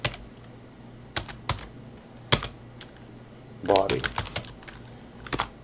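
Keys clatter on a computer keyboard as a part name is typed in 3D design software, scattered single taps and then a quick burst of keystrokes, close and crisp, with a voice speaking briefly.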